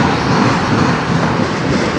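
Close and loud, a Norfolk Southern or CSX freight train rumbles by near a rail diamond in Fostoria, Ohio, with a continuous roar of railcars and faint clattering over the rails.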